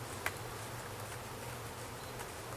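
Honeybees from a swarm buzz softly and continuously, a faint distant hum with a few closer passes of individual bees, no voices.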